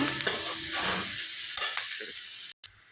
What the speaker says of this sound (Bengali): এর মধ্যে আমি রসুন কুচিটাও দিয়ে দিচ্ছি। ভালো করে ভেজে নেব।